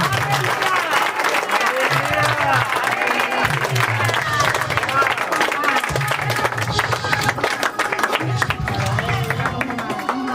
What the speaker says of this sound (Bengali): যাও যাও, জোরে হাততালি দিয়ে আসো।